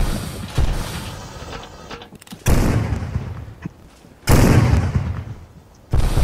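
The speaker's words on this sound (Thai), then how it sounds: "ยิงออกไป" Sailing ship cannons firing in the naval game Windward, three loud close blasts spaced about two seconds apart, each followed by a short rumbling tail, with no talk.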